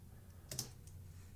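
A computer keyboard gives a few faint, isolated keystrokes against quiet room background.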